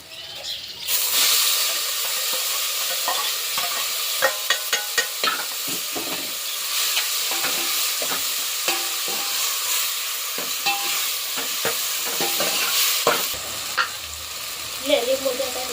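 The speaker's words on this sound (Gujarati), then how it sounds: "સરસ વઘાર થઈ ગયો દાળનો." Dal tempering hisses loudly in hot oil for a Gujarati masala dosa meal, a dense, continuous close sizzle with crackling bursts and occasional clicks of stirring.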